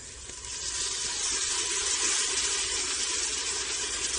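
Garlic hitting a hot pan of browned shallots, a steady loud sizzle that swells in the first half-second and holds bright and continuous, with no talking.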